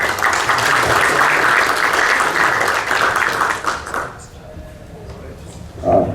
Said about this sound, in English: So give a big welcome of applause to our next speaker, Andrii.